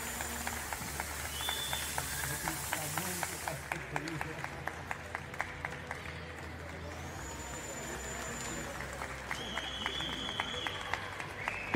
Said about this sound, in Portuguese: Uma salva de palmas para o MIBR, vencedores!